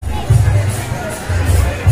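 A crowd gathers at a Shiv Baraat procession in Talagaon with a Kali Mata tandav tableau, a loud dense babble of many voices with rising bursts and low rumbling throughout.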